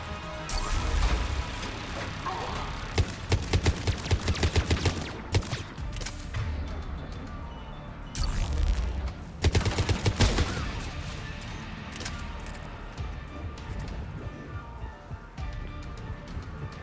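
Rapid bursts of turret gunfire and crashing impacts in Mass Effect 3 on Insanity difficulty, with loud, dense automatic fire in repeated volleys and short lulls between them, close and harsh.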